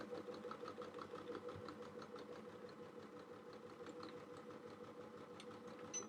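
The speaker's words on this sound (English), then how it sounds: "the seam is downward facing so that my machine doesn't have to fight against my seam. Okay. And we're going to sew that." A sewing machine stitches a seam on a small fabric mug rug, a faint, steady mechanical whir with a rapid needle pulse running continuously and alone.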